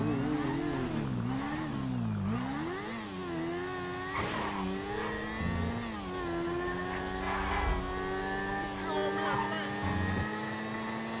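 A motorcycle engine in a video game revs up and down in repeated wavering pitch sweeps, loud and continuous, with a player talking over it.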